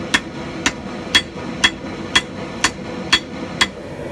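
A hammer strikes hot steel while forge welding a Norse-style tomahawk at the eye, landing eight loud, evenly spaced ringing blows about half a second apart, close up and with no talk.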